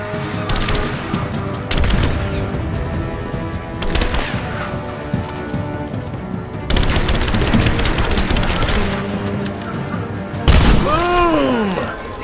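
Grenade blasts and bursts of gunfire erupt in a Rise of the Tomb Raider PC firefight, loud booms struck at intervals between rattling shots, with a whooshing sweep near the end.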